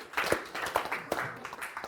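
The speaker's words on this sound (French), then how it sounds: "Bravo, ça s'applaudit." A small group claps after a correct quiz answer at a Téléthon gaming charity event, giving a short run of light, uneven hand claps that sound close and somewhat sparse.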